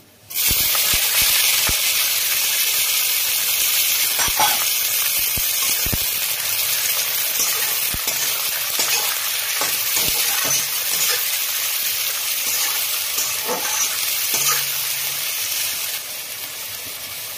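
Steady sizzling hiss of onions frying in a pan, loud and close, with occasional clicks and stirring knocks and no talking.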